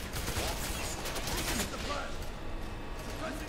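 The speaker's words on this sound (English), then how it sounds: "I'm just gonna shoot him in the leg" Gunfire from the F.E.A.R. 3 video game comes as dense, continuous volleys of shots, rattling steadily throughout with a player talking over them.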